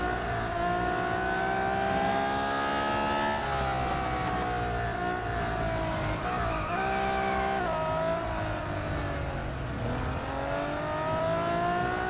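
Race car in Real Racing 3, a sustained loud engine drone rising and falling with gear changes and throttle, with tire squeal through corners running for the full stretch.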